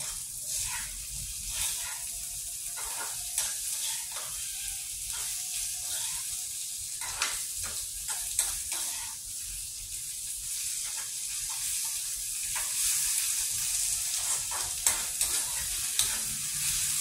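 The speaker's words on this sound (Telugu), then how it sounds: "వేగిపోతుందండి మొత్తం. ఆయిల్ అంతా ఇచ్చేస్తుంది, ఆయిల్ బయటకు వచ్చేసింది." Eggplant curry with yellow turmeric fries in plenty of oil, giving a steady close sizzle with bursts of spattering and the occasional scrape of stirring throughout.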